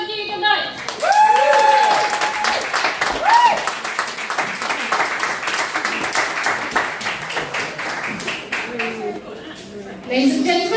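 A live comedy-show audience applauds and cheers after a poem reading, with loud dense clapping that rises and holds, broken by whoops and a voice over the top, then fades before a fresh surge near the end.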